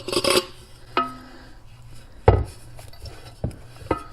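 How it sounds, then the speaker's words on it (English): A clay pot slid onto a threaded rod with metal washers and nuts, giving several sharp ceramic and metal clinks and knocks spaced irregularly, close and fairly loud. "then I'm going to take my clay pot, second one, I'm going to slide that up."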